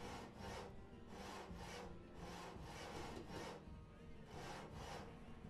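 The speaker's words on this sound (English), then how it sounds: "they just walk around and like just hammer and saw random parts of the building" Villagers sawing wood while building in the city-building game Banished, rhythmic rasping strokes repeating steadily about twice a second, soft and somewhat distant.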